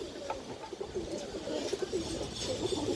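A pigeon coos softly in a series of low, rhythmic throaty calls, close by, against a faint background hiss.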